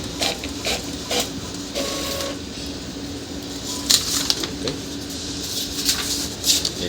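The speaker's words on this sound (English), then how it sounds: "Printer series test space." An Epson 3210 inkjet printer runs a test page, giving a steady mechanical whir with repeated carriage clicks and ratcheting bursts, close and fairly loud, without talk.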